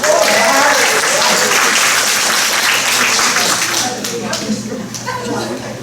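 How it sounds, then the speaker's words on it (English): An audience at a patriotic concert applauds for firefighters, a dense burst of clapping that stays loud for several seconds, then thins and tapers off toward the end. "give them some applause for being the cutest fire people."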